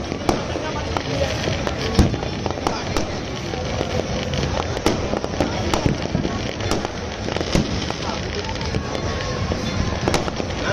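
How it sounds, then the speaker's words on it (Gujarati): Fireworks and firecrackers burst across Raipur, Ahmedabad, after Uttarayan 2024, a dense, continuous barrage of cracks and bangs near and far. Murmuring voices sit underneath. "એટલા ફટાકડા ફૂટી ગયા"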